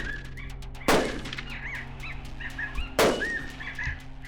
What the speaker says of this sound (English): I cranked off a couple shots.